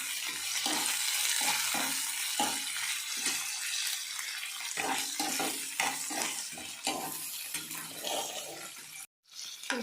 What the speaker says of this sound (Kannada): ಈಗ ನಾವು ಹಾಗಲಕಾಯಿ ಹುರ್ಕೊತೈತಿಲ್ಲ ಅದ್ರ ಜೊತೆಗೆ ನಾವು ಉಳ್ಳಾಗಡ್ಡಿ ಹುರ್ಕೋಬೋದು